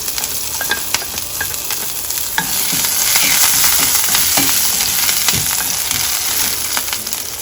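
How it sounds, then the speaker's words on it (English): Cumin seeds and green chili spluttering in two tablespoons of hot oil for a tempering, a steady loud sizzle with sharp crackling pops throughout, close up with no talking. "2 tablespoons of oil. Let's add cumin and green chili."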